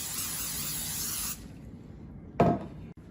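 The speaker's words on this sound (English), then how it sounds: "First, I'm going to spray this little pan." A cooking spray can hisses steadily over a small baking pan for caramel rolls, a close, even spray that stops abruptly, followed by a short clatter of the can or pan.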